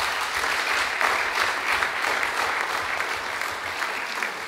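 Sustained, even applause from an audience at a gymnastics studio presentation, many hands clapping steadily and fairly close throughout.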